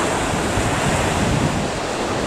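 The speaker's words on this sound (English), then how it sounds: "But we definitely have some nice sea sounds." Sea waves wash steadily onto Cha-Am beach in Thailand, a full, loud surf roar mixed with breeze buffeting the microphone, no voices.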